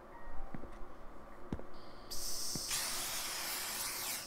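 A poison spray can in a video game lets out a long, loud pressurized hiss after a few soft clicks and taps.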